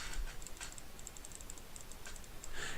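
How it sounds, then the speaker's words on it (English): Rapid mouse clicking while breaking blocks in Minecraft, a quick stream of faint, close ticks running steadily through the moment over a low background hiss. "You might hear my clicking going on."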